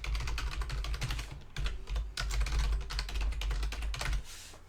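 Computer keyboard being typed on to enter an email address, a steady close stream of rapid key clicks with two brief pauses, over a low constant hum and no talk.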